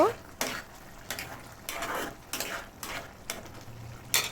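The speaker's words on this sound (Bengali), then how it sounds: "ওই ডিমগুলো দিয়ে দিচ্ছি দিয়ে নেড়ে চেড়ে দিব" A utensil stirs fried eggs into a simmering curry of papaya, pointed gourd and potato. About eight separate scraping strokes, close and moderately quiet, come at a loose, unhurried pace.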